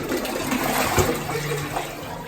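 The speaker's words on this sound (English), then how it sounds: "just try flushing, see if it goes" A toilet being flushed during a DIY plumbing job on a blocked drain, heard as a steady close rush of water with a brief surge near the middle and no talk.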